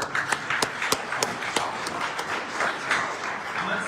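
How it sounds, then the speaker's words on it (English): Audience applause at an Equitable Development business month kickoff event, a steady wash of clapping with a few sharper nearby claps standing out, moderately loud and continuous throughout. "Let's give them a round of applause."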